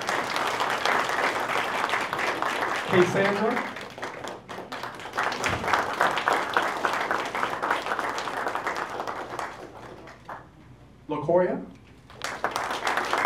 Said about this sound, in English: you can go ahead and applaud.